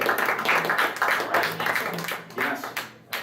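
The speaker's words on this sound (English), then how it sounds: "Give a round of applause." Audience applause at an anime convention game show, a few seconds of steady clapping from a crowd, close and fairly loud, fading briefly at the end.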